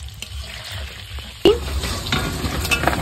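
Dried red chillies fry in a pan with a steady sizzle, and a sharp scrape of stirring cuts in partway through before the crackling frying carries on close by.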